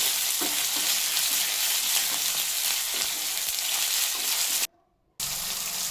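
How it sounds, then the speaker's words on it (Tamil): Onion with ginger garlic paste sautéing in a pan for chicken gravy, a loud continuous sizzle with light stirring scrapes, broken by a brief silence near the end. "வெங்காயம் நல்லா வதங்கணும் கொஞ்சம். அது கூட இஞ்சி பூண்டு பேஸ்ட் போட்டுக்கோங்க."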